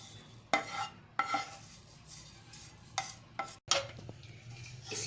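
Roasted sesame seeds scraped from a metal pan onto a plate, with several sharp scraping and clinking bursts of spoon against pan separated by quieter rustling gaps, close and fairly faint.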